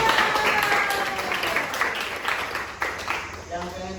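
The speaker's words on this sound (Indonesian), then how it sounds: "Tepuk tangan buat semua." A school class claps together in a classroom, a dense burst of applause that tapers off toward the end as voices begin to emerge.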